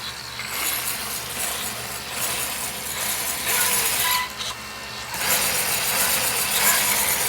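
The E Raminator, a vehicle running with no clutch springs, fires up and keeps running with a loud, rattly mechanical clatter and a ratcheting engine chug that surges in waves, close by with no voices.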